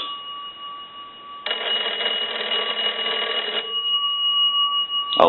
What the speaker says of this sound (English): ring the telephone like we were getting a call